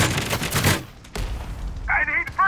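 Rapid bursts of gunfire in a free online shooter game, a loud clattering volley followed by a heavy single shot and further close reports, with brief electronic game sounds near the end.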